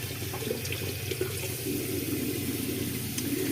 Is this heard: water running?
yes